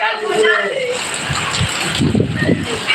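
Morning rain in Gazipur driven by strong wind, a dense continuous wash of hiss and splatter throughout, with a voice speaking over it.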